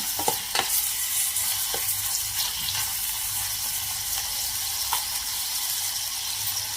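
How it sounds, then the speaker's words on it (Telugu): Paneer fries gently in ghee, giving a close, steady sizzle broken by the scrape and clink of stirring. "నెయ్యితో చేస్తున్నా మరీ ఎక్కువ ఫ్రై కావద్దు లైట్గా ఉండాలి"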